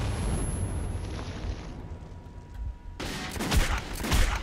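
Gunfire and explosions from the video game Metro 2033 make a dense, rumbling barrage, with a muffled stretch midway before sharp, loud bursts return.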